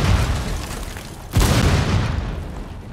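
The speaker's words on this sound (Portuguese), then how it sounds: "explosão!" A loud explosion in the game Rainbow Six Siege booms midway, a sudden deep burst rumbling out over dense background noise.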